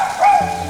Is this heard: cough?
no